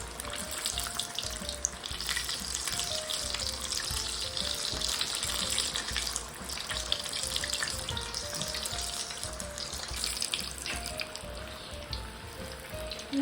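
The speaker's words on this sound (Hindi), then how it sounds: "तो चलिए अब हम इनको जल्दी से फ्राई कर लेते हैं।" Chicken samosas deep fry in a large kadhai of oil over a medium flame, giving a continuous bubbling, watery sizzle that stays steady and close for the whole stretch with no talk.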